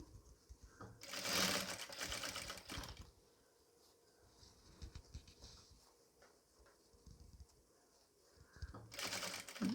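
A sewing machine stitches piping onto nighty material in two rapid whirring bursts, one early and one at the end, with quiet pauses and faint handling noise between them.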